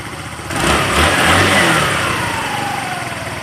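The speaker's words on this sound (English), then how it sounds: "you're going to make sure the bike's warmed up when you adjust the idle" A warmed-up 150cc scooter engine runs close by during idle adjustment with the back tire not spinning. It catches after a half-second, revs up to a strong mid-pitched hum, then settles into a steadier, slightly lower running drone.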